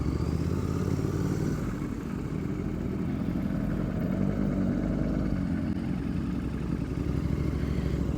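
A motorcycle climbs a hill road at Uttari Betta, with a continuous loud engine drone and heavy wind rumble throughout and no pauses.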